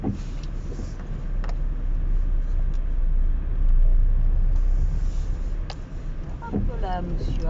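A car passes close by on a narrow road, its engine rumbling steadily and swelling briefly in the middle, with low road noise throughout and faint voices near the end.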